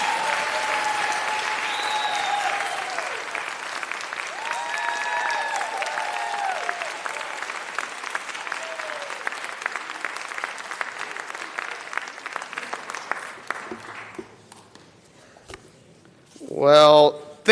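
Applause for the Jewish Women's Theater, sustained clapping from an audience mixed with a voice, fading out toward the end before a brief loud sound closes it.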